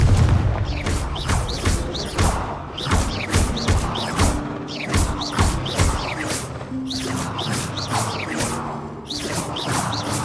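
Confringo spell from the game Hogwarts Legacy, a series of sharp fiery blasts and whooshing bursts repeating in quick succession, loud and near, with booming low impacts between them and no talking.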